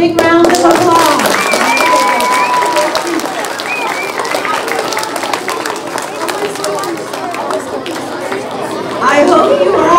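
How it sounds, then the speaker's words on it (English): A children's opera audience breaks into loud, sustained clapping mixed with chatter and excited voices, with the applause swelling again at the end. "Let's give them a big round of applause."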